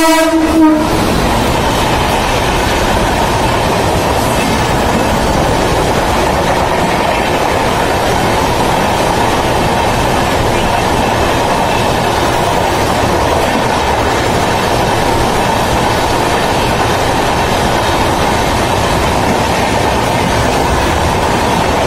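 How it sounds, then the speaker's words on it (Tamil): An express passenger train with brand-new LHB coaches rumbles steadily through a station at close range, a brief horn blast at the start giving way to continuous heavy rolling noise and wheel clatter. "இந்த ட்ரெயின் வந்து பிராண்ட் நியூ எல்எஸ்பி கோச்சில் வருது"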